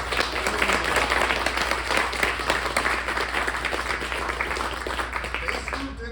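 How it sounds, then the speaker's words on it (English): Audience at a book release event in Nashville giving sustained applause, a thick wash of clapping that stays strong before thinning out near the end, with a low steady hum in the room. "Let's give them a big round of applause"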